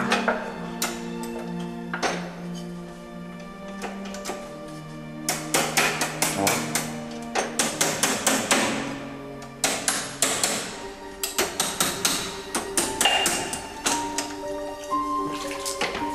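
A hammer strikes an old safe inside a wartime bunker beneath a town square, ringing metallic blows that fall in irregular bursts and rapid clusters, loud and close, with resonant clanging tones lingering between hits and no talking.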